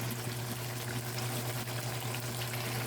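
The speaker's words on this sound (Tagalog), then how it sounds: "Nilagyan ko po siya ng tubig." Water poured into a hot pan of afritada pork ribs, a steady continuous rush and hiss with a low hum underneath, fairly loud and close, with no talking.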